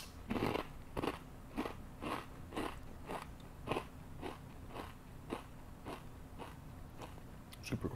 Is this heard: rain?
no